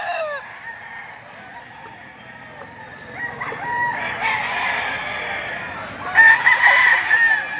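A gamecock stag crows at a rooster market in Padre Garcia, Batangas, with a drawn-out nearby crow, some clucking and other crows behind it, and a louder crow near the end.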